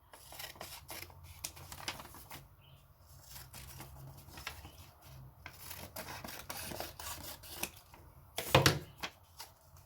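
A craft knife or blade cuts down a board for a handmade recipe journal, giving soft close rasping and scraping strokes with a brief louder rub near the end.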